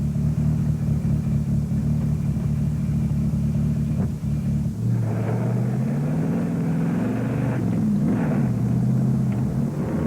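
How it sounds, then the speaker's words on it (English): A Barracuda rally car on the Cypress Hills special section, its engine droning steadily and close, then shifting pitch as it revs and changes speed over about ten seconds. "Harvey and Beckman in the Barracuda start the Cypress Hills special section"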